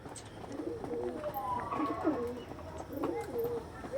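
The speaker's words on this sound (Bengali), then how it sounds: "খুব সুন্দর পট্টির পায়রা, মাদা পায়রা, দেখে নিন কোয়ালিটি।" Domestic pigeons of a patterned breed coo softly in a low, throaty, repeated rhythm, close by but quiet, with a faint background hum.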